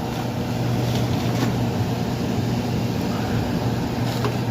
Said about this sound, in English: You can feel the fan blowing.